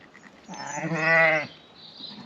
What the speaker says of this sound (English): Ewes and lambs are in.